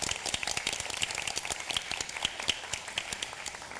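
Audience applause at a high school team debate final, a dense, steady wash of many hands clapping throughout with no pauses.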